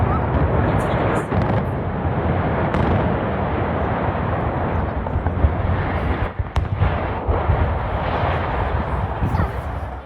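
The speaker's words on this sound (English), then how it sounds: "Watch the moment the iconic Sheraton Crossroads Hotel in Mahwah, New Jersey is demolished in a powerful," The Sheraton Crossroads Hotel in Mahwah, New Jersey comes down in a controlled demolition blast: a loud, sustained roaring rumble with crackling bursts that carries on without a break for about ten seconds.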